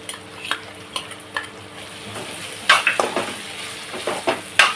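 Dry coconut paste ground with coriander and green chillies goes into a hot pan for a tiger prawn masala, with a soft sizzle under repeated sharp scrapes and clinks of a spoon stirring against the metal pan.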